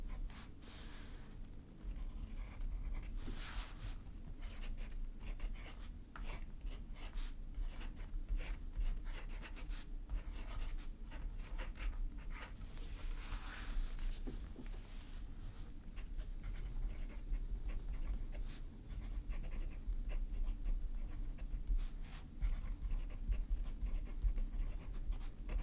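Fountain pen writing on paper with a fine-tipped Sankakusen nib, a steady close scratchy rubbing with short strokes and pauses, continuous and fairly quiet with no talking.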